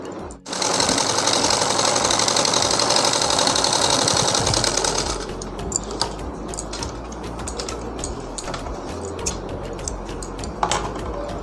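A sewing machine runs in one long, loud, steady burst while stitching a katori cut blouse, then stops and gives way to lighter mechanical clicks and handling noises.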